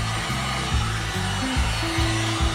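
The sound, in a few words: heat gun warming car body metal before painting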